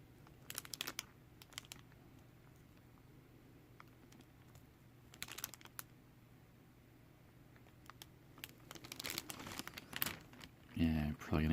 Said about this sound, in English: probably gonna hear a lot of plastic crinkling too for the cover